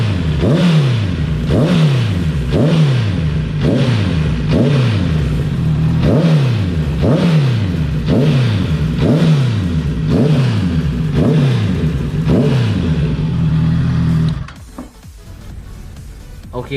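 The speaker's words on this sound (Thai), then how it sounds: "เสียงที่มันเป็นเสียงจากเครื่องยนต์มันไม่ใช่นะครับ เป็นเสียงของแคดบาร์นะเพื่อนๆมันขาดนะครับ" A loud 2017 Honda CB650F motorcycle engine revving steadily at high revs with a rhythmic rattling clatter from a broken crash bar, pulsing about every second and a half, stopping abruptly near the end.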